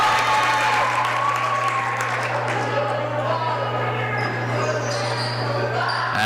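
A home crowd at a high school girls' basketball game, Harwood at U-32, keeps up a loud, continuous roar of cheering and clapping, with a steady hum and occasional ball bounces underneath.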